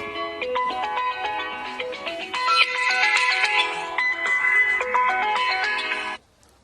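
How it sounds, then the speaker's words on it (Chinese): A mobile phone ringtone for an incoming call plays a bright, repeating electronic melody for about six seconds before cutting off sharply. It rings alone in a quiet room in the Greater Khingan forest. "谁给我来电话？"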